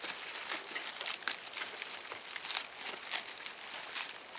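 Plastic bags crinkle and rustle while magnetic Lucky Duck HD mallard decoy wings are unboxed, a close, continuous run of irregular crackling bursts with no voices.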